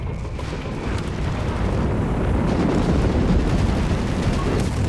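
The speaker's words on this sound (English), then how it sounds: "There's artillery everywhere" Artillery barrage in Company of Heroes 3, a dense, continuous rumble of overlapping explosions and crackling fire, loud and steady throughout with no letup.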